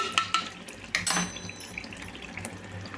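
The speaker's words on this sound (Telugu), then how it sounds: "దీంట్లోనే కొంచెం వాటర్ అయితే వేసుకొని వేసుకోవాలి" Water splashes from a tap or jug into a metal cooking pan with yogurt and fried ingredients, a few sharp splashy bursts at first, then a softer steady trickle.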